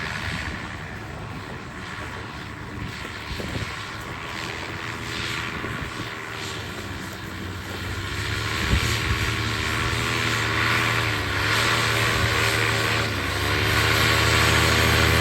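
A paramotor engine and propeller in flight, a continuous buzzing drone that swells louder over the second half as the craft passes, with wind noise and no speech.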